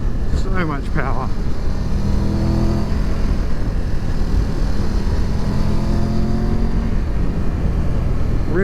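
A 2022 Triumph Tiger 1200 GT Pro motorcycle engine drones loudly and steadily while riding, with a brief rising rev near the start and constant wind and road noise underneath.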